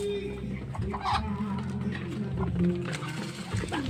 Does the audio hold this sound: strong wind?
no